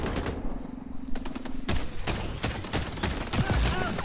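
Gunfire in the online shooter XDefiant, with dense bursts of rapid automatic shots and scattered single cracks layered over game clatter, loud and continuous throughout.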